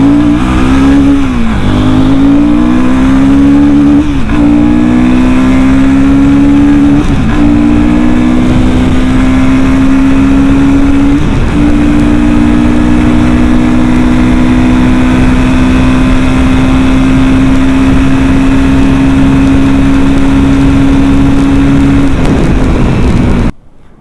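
A 2024 Royal Enfield Himalayan 450 motorcycle with the Sherpa 450 engine accelerates hard, close and loud, its exhaust note climbing through several quick gear changes before settling into a long, steady high drone that cuts off at the end.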